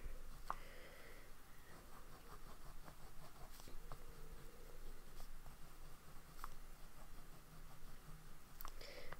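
A fountain pen with an extra-fine nib, inked with Birmingham Pen Co. Coking Coal, writes on paper, giving a faint, continuous close-up scratch with small tick-like strokes scattered through a quiet room.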